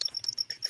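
A person mimics the loud chirping of a big black insect with a quick run of high, thin, repeated chirps. It is close and alone.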